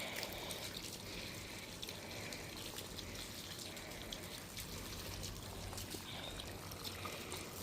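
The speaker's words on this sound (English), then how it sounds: "Gonna rinse you off nice and pretty." Steady water pours and gushes from a hose or tap while a sheep is rinsed, a continuous broadband wash of sound at moderate level with no talk.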